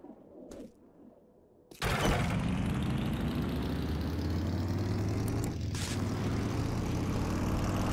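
A motorcycle engine in 7 Days To Die roars to life after a few quiet seconds, then runs steadily at a loud, even idle with a slight rise in pitch.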